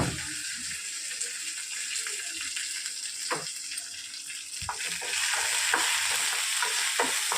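Cumin seeds are stirred into a dish cooking in a pan, giving a steady sizzle with repeated scraping strokes that grow busier and a little louder toward the end.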